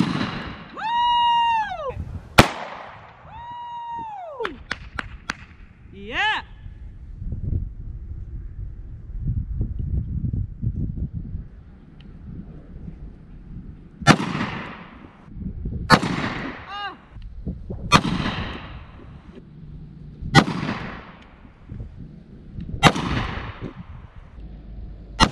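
Gunshots fired at a target outdoors, a string of sharp cracks at irregular gaps, several coming quickly one after another near the end, with wind noise and some whistling tones earlier.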